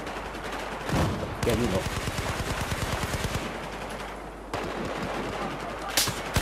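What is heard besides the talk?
light machine gun firing in video game Battlefield 4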